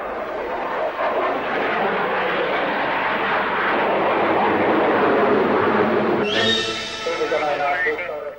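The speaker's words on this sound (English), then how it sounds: "An interesting display was put on by a Singleton aircraft." A single Soviet aircraft in a flying display roars steadily overhead, loud and sustained, shifting near the end to a sharper, higher engine whine as it passes, while someone narrates over the sound.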